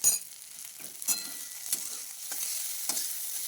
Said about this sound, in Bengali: দেখো এভাবে করে ভাজা হয়ে গেল